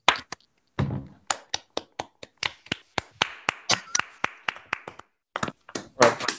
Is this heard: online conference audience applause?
yes